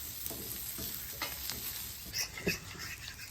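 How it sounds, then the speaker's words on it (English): Asparagus sizzles on a flat top griddle with a steady, moderately quiet frying hiss, broken by a few light scrapes and pops of stirring, with no speech. "We'll put the asparagus on there."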